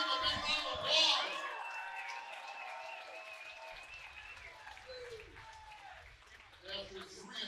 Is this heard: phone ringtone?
no